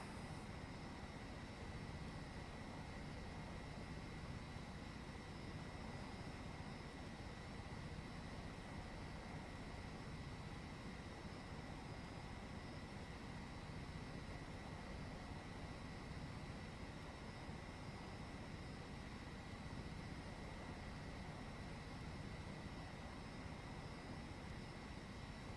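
A Virtavia AH-64D helicopter flies in FSX as a faint, steady, broadband engine and rotor drone that stays even and unbroken from start to end.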